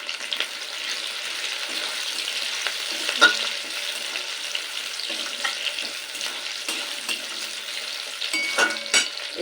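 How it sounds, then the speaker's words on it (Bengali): Capsicum pieces are stir-fried in a little oil, a steady close sizzle with occasional light clicks and scrapes of the spatula stirring the pan. "ক্যাপসিকামের টুকরোগুলো খুব লাল করে ভাজবো না জাস্ট হালকা তেলে নেড়ে নেবো"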